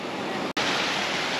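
A waterfall near Ordu in Turkey pours down into a stream, giving a steady, loud, broadband rush of water with one brief cut in the middle.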